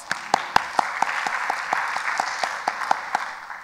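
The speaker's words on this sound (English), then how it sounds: "Rounds of applause." An audience at a natural history science talk giving a round of applause, distinct claps standing out over a broader bed of clapping, steady and moderately close.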